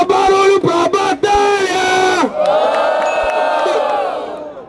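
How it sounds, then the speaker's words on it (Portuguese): Crowd at a street rap battle roaring, cheering and whooping loudly and continuously, with sharp bursts of shouting early on and a sustained collective yell that fades slightly toward the end. "barulho pra batalha!"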